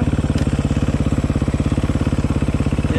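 Motorcycle engine idling in first gear, a steady loud rapid thumping pulse close by, alone and even throughout with no voices.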